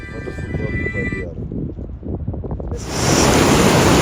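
The Bhaga river rushes steadily in the Himalayan mountains while gusty wind buffets the microphone, swelling to a loud roar near the end.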